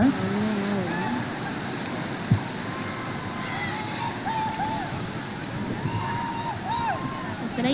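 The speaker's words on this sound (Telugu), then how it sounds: "భలే అంటే ఆ సౌండ్స్ భలే వస్తున్నాయి అన్నమాట అలల సౌండ్లు" Ocean waves breaking on a beach, a steady broad wash of surf with wind, with voices talking over it.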